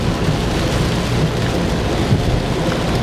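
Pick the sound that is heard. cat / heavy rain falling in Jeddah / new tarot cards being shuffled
heavy rain falling in Jeddah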